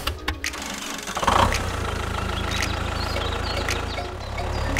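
A tractor engine cranks and catches, then settles into a steady low idle rumble that carries on, fairly close and loud, with some clatter over it.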